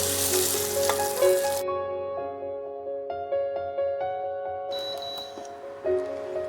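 Masala ingredients fry in oil with a loud, close sizzle at first. The frying then fades under steady tonal background music, with no voices.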